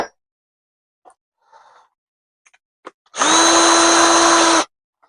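A power drill bores a hole during a workshop build, one steady loud whine of about a second and a half after a few faint knocks and taps.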